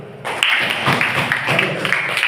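A class of students in a school classroom breaking into applause: dense, loud, steady clapping from many hands, starting abruptly and carrying on evenly with a few louder bursts, with no speech over it.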